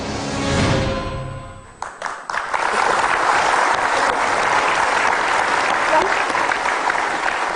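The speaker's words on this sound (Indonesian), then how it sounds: "Anda ikut tepuk tangan" Studio audience at a live Indonesian political talk show about football bursts into loud, sustained applause that begins around two seconds in and holds steady to the end, preceded by a speaker's voice.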